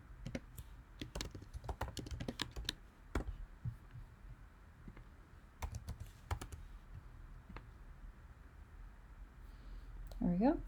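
An address is typed on a computer keyboard in quick, uneven runs of close, crisp key clicks with short pauses, and a voice briefly begins at the very end.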